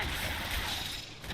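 Magazine change on a gun in the video game StarRupture: a short run of mechanical clicks and clacks over a steady game background, moderately loud and close, lasting just over a second.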